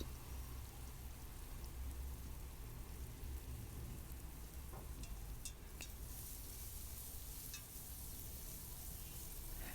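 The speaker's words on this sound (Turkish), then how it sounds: "Güzelce pembeleşinceye kadar kızartıyoruz" Steady dense crackling hiss of onions and garlic frying in hot oil, continuous and fairly close, with a few sharper pops along the way.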